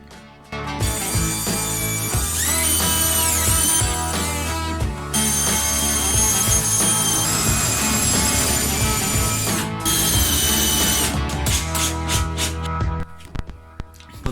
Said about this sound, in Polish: Biorę się za wkrętarkę, wkręcam wkręty